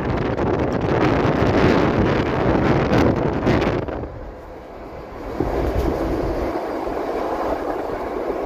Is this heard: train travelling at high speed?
yes